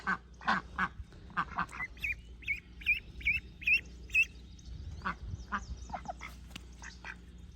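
Dual-purpose ducks kept with chickens near a greenhouse quack and squawk in a lively series of close, repeated calls, some in quick pairs, over a quiet background.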